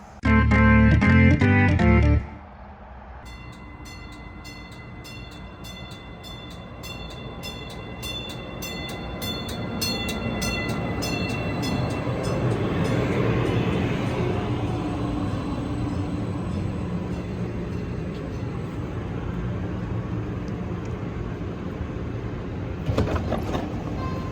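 An RTD light rail train arrives at a station in the early morning, a short loud chime or bell at the start, then a steady rumbling roll that swells and fades, with a brief clatter near the end.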